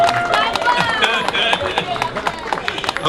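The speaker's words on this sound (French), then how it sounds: "est-ce qu'on peut applaudir pour lui?" An audience applauds a performer, with sharp, close claps scattered through lively crowd noise and voices talking and calling out over the clapping.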